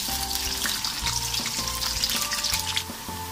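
A medium onion fries in oil with cardamom, cinnamon, cloves, black pepper and bay leaf for vegetable pulao, a steady loud sizzle with stirring knocks and scrapes throughout.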